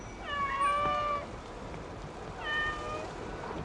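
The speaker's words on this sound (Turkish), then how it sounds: "Bak Sevim apartman kedilere kaldı" Cats at an apartment building meow in two drawn-out, wavering cries separated by a pause, moderately close and fairly faint over a quiet background hiss, with no talking.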